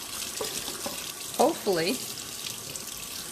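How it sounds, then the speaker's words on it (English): Cool tap water runs into a sink while an ink pad is rinsed under it, a steady hiss with a few brief splashing bursts and a voice speaking over it. "I'm just going to turn it down so that it's cool water instead of hot water."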